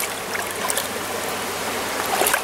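A small stream in central Pennsylvania runs swollen and murky after overnight rain, giving a steady close rush and trickle of water with no voices.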